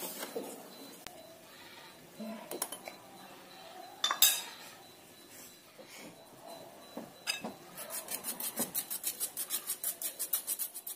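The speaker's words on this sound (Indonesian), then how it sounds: "Kemudian mau saya aduk lagi." A spoon stirs a two-ingredient chocolate snack mixture in a bowl, giving soft scraping and rubbing with light metallic clinks, then a steady run of quick, regular scrapes toward the end.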